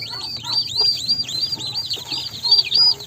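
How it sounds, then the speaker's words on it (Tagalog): A mother hen clucks to her chicks after they are moved into a larger coop, with repeated high peeping from the chicks running throughout, close and fairly loud. "Tinatawag sila nung nanay nila."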